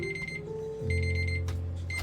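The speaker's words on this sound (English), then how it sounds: "So that alarm" An alarm clock beeping in a quiet room during a diamond painting session, repeated bright electronic tones in short bursts over a low hum, close and clear with no talking.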